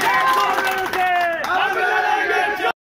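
A political rally crowd claps and shouts together at an outdoor gathering, loud layered cheering with voices rising and falling before cutting off abruptly near the end.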